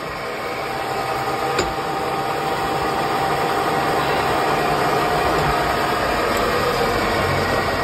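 A milling machine in a workshop cutting an inlet cutout, a loud steady machine drone with constant high whine and grinding hum throughout, one faint click, no talking.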